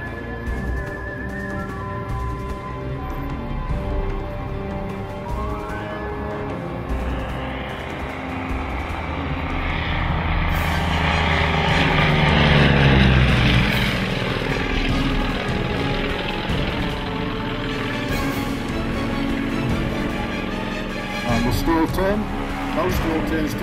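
A Russian training aeroplane with a 400 horsepower nine-cylinder radial engine throbs at an air show, its propeller drone swelling louder mid-way then easing, with a voice talking over it.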